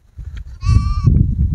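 Goats bleating on an Indonesian livestock farm, one clear nasal bleat close by over a low rumble of background noise and a murmuring voice.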